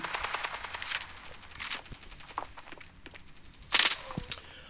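Bursts of rapid machine gun fire in the video game Standoff 2, several short volleys with scattered single shots, fairly loud and close, no talking.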